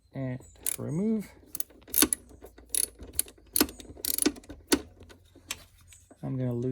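A ratchet fitted with a 6mm Allen socket loosens a bolt while pannier racks are fitted to a Yamaha Tenere 700 motorcycle, giving bursts of sharp clicking strokes mixed with talk.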